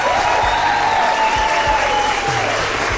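Guests at a first Holy Communion celebration applaud, a loud, continuous spray of clapping over a low background hum and a sustained musical tone, brief and unbroken throughout.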